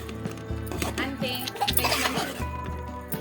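Clinking of a spoon against a pan while veg manchurian is stirred after lemon juice is squeezed in, with scattered metallic taps and scraping at close range and faint speech underneath.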